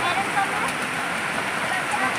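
Heavy rain pours in a dense, steady hiss close by during a tropical downpour, loud and unbroken throughout.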